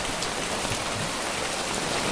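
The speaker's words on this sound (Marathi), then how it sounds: "पाऊस पण बघू शकता" Heavy rain pours down in a city, a dense, even roar of drops hitting surfaces with no letup, loud and close.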